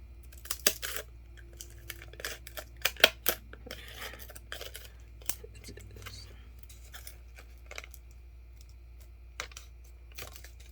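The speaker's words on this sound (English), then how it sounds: "So let me cut this side too." Scissors snipping through paper while a simple paper kite is made, a scattered series of sharp close cuts and crisp rustles, busiest early on and thinning out later.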